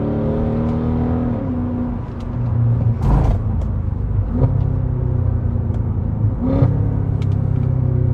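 A Mercedes SLK 55 AMG engine pulls hard under acceleration from inside the car, a loud steady rumble that climbs in pitch and drops sharply at several gear changes.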